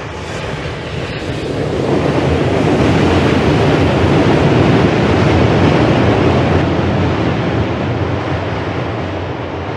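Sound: train passing over a steel bridge

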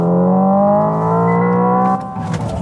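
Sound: Hyundai IONIQ 5 N electric car simulated downshift rev

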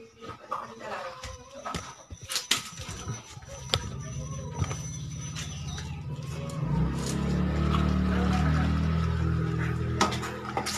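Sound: water boiling in pot

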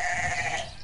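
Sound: sheep bleating

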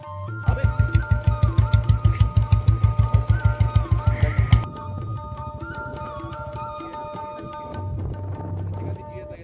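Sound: Honda Hornet 160 CB160R motorcycle riding

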